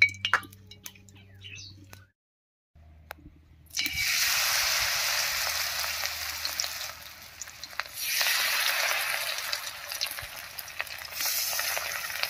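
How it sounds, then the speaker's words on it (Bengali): Bunches of kulekhara leaf tips dipped in batter fry in hot mustard oil, a loud, steady crackling sizzle that starts after a few seconds of quiet clinks and handling, swelling again partway through. "আমি 2-3টে করে কুলেখাড়ার ডগা একসঙ্গে করে নিয়ে এই ব্যাটারে ডুবিয়ে ভেজে নিচ্ছি।"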